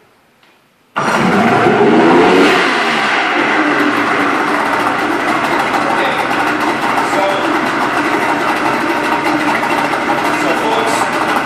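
An Evinrude 70 HP outboard engine in neutral with the choke on cranks and catches after a second of near silence, then runs loud and steady, a dense mechanical roar that settles into an even idle.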